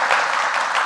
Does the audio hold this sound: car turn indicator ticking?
no